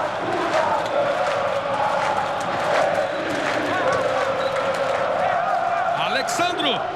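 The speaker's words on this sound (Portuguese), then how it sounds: "Ouça a torcida do Vasco." Vasco football fans roar in a packed stadium during a Copa do Brasil final, a dense, loud, sustained crowd noise with chanting and rising whistles near the end.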